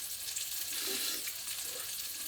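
Fish coated in 1916 breaded batter mix fries in hot oil, giving a continuous, close, even crackling sizzle with no pauses.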